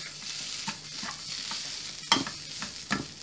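Orange leaves sauté and sizzle in a pan for a Madura bone soto, a soft steady frying hiss broken by a few sharp stirring scrapes.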